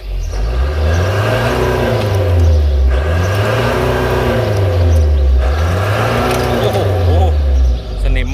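An old car engine, started after sitting parked for ten years, revs up and down in repeated long swells, loud and close, with a voice talking briefly under it.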